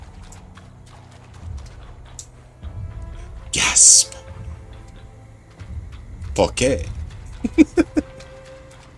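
Heavy footsteps of a character stomping in a video game sound as dull repeated thuds and clicks under a bed of game noise, with sharp louder bursts partway through and a person speaking briefly.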